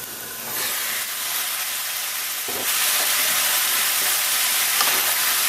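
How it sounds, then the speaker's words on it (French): Steady broadband hiss of vegetables steaming under a covered pan while cooking a chicken stir-fry with hoisin sauce, continuous and fairly loud with a slight rise partway through. "On le laisse steamer pour attendrir les légumes."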